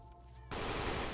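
Dense gunfire erupts suddenly after a quiet hum, a loud continuous barrage of overlapping automatic shots from a large firefight in the shooter game Stalker: Call of Chernobyl, set at a military installation.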